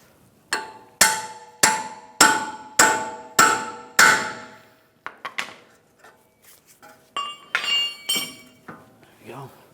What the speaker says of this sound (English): We're going to use a pickle fork.